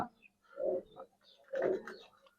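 High-flying giribaz pigeons cooing nearby, two soft low coos spaced about a second apart, fairly quiet.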